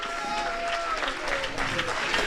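A church congregation claps hands together in praise, a dense, steady wash of applause with some voices calling out over it.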